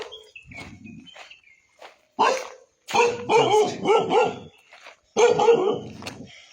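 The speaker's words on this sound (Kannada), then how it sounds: "ಯಾವ ಥರ ಬೊಗಳಕತ್ತೈತಿ ನೋಡಿದ." A village dog in a hilltop hamlet barks repeatedly and loudly nearby, in bursts of sharp barks separated by short pauses, with footsteps audible early on.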